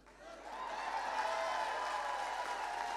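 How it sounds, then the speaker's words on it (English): A conference audience gives steady applause in a large hall, a continuous wash of clapping that swells in and holds at moderate loudness for a few seconds. "Another big round of applause."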